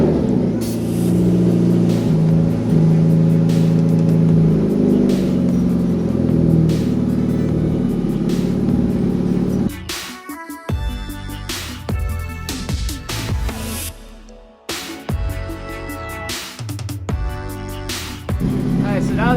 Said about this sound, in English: But first, a cold startup.